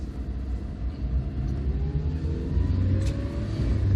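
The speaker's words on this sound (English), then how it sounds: "So you have to rev it out, this little overhead cam engine" A small overhead-cam 1050 cc engine in a 1978 Fiat 127 CL revs steadily upward, a continuous mid-pitched rising drone with rumble underneath, fairly close and building in loudness toward the end.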